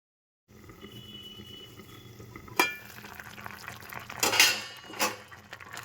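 Mango pieces and jaggery are stirred together in a pan, with a low sizzle under several sharp metallic scrapes and clanks of a spoon against the pan, close and clear after a short silent start.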